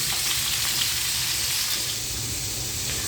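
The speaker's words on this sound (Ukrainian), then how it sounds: "І зараз обсмажую е, цибулю і моркву." Onion and carrot frying in a pan for stewed chicken thighs, giving a loud, continuous close-up sizzle that stays even throughout with no talking.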